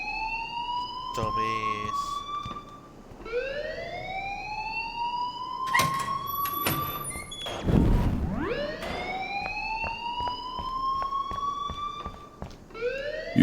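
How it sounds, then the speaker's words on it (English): A school alarm in the video game Life is Strange wails in repeated rising siren sweeps, loud and continuous behind the dialogue, while characters talk over it. "please turn off that alarm since that's your job"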